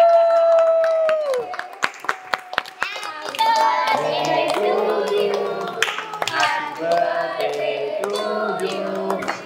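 At a birthday gathering, a group snaps fingers in scattered sharp clicks under sustained tones, then people talk and sing together over irregular snaps and claps.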